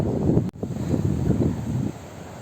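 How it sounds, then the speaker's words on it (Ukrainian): Steady wind rushing across the microphone on a seaside walk in Odesa, a broad low roar that holds throughout with a brief dropout near the start. "вітер дує"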